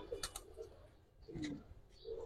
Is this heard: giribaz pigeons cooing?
yes